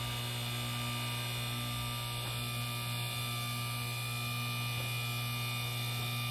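Electric motor of a portable 8000 lb car and truck lift spinning up, a steady, even electrical hum with a constant drone and no voices.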